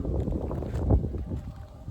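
Steady wind buffeting the microphone, a low rumbling roar that swells and eases, with no voices.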